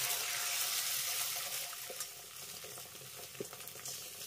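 Beaten egg sizzles quietly in hot mustard oil in a wok, a soft continuous frying hiss with a few small crackles and pops, close but low in level, no talk.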